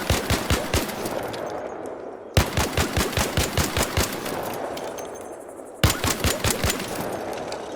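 Rapid automatic gunfire from a weapon fitted with attachments in the ARC Raiders training grounds, fired at training dummies in three tight bursts of evenly spaced shots, loud and close, with brief gaps between bursts.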